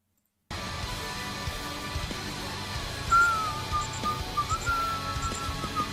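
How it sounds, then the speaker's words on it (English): A person whistles a short wavering tune alone, fairly close, over a steady background hum of game music or ambience, with no talking. "I can hear me whistling"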